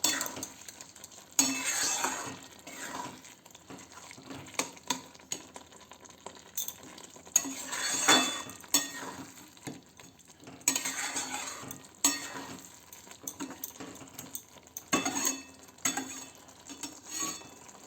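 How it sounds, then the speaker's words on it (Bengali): A spoon stirs kasuri methi through a simmering matar baby corn curry in a pan, giving soft scraping swirls and occasional light clinks of metal against the pot, close and fairly quiet, repeating in short bursts. "এরপরে আমি এর মধ্যে কসুরি মেথিটা দেব। এটাও ভালো করে মিশিয়ে নেব।"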